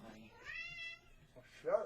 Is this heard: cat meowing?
yes